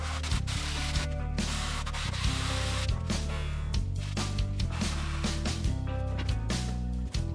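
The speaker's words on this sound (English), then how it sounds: "use a little dowel piece here, wrapped sandpaper, to sand the cove" Sandpaper wrapped around a small wooden dowel rubs steadily back and forth inside a routed cove on a wooden wall-mounted coat hanger, a continuous close scratchy rasp with short pauses and an underlying hum.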